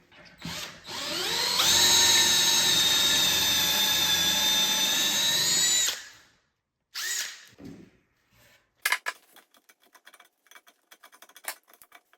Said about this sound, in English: We got our pocket screws, pocket holes drilled, and put our screws in there